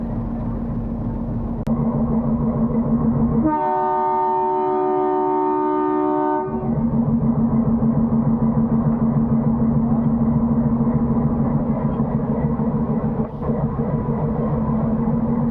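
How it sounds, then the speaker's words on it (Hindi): Meter gauge passenger train 52076 pulls out of Khambhli Ghat station, its steady diesel engine drone broken by a long multi-tone horn blast lasting about three seconds, then the engine hum continues with faint clanks. "तो ट्रेन डिपार्चर हो रही है इसके राइट टाइम 12:50 पर कामली घाट से"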